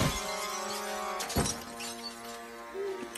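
Glass shatters loudly in a horror film, a sharp crash near the middle followed by scattering shards and a lingering ringing tail over a steady music-like background.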